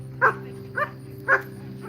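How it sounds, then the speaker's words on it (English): Three separate dog barks from big dogs at a farmer's market, at a steady pace, fairly close, over a low constant hum. "Big dogs barking at the little dogs."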